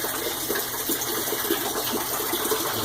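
Steady trickling, splashing water from a small terrarium waterfall runs continuously at a low, even level, close by, with no voices.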